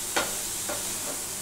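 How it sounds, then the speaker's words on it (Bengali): Milk being stirred into pumpkin halwa in a cooking pan: three brief scraping swishes spaced about half a second apart, fairly quiet, with no talking. "এবার আমি এর মধ্যে মিশিয়ে দেবো, এখনই মেশাবো আমি"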